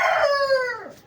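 A hen sitting in a nest box to lay an egg gives a single drawn-out squawking call that starts loud and harsh, then slides downward and trails off, heard alone at close range.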